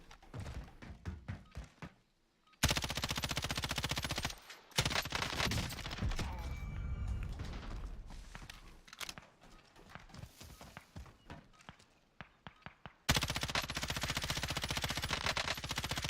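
Automatic M13 rifle fire in Call of Duty: Warzone, loud sustained bursts with short pauses, the densest stretches near the start and end.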